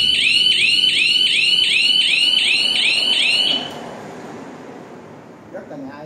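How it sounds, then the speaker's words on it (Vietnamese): The speaker of an interconnected fire alarm system wails a loud, rapidly repeating electronic warble for several seconds, then cuts off abruptly, leaving a quiet room with faint handling noise. "Nếu mình nhấn loa nó sẽ báo động cái loa."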